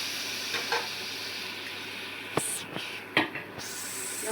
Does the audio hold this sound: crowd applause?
no